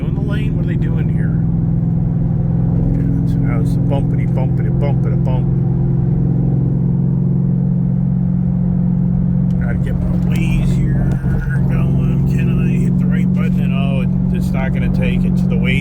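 A Ford Raptor truck rolls over a bumpy road under construction, its engine holding a steady low drone while thumps and rattles from the rough surface come through and people talk inside the cab.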